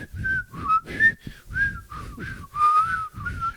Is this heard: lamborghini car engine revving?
no